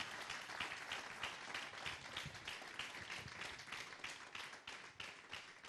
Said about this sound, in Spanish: Den un aplauso al Señor por esta su palabra.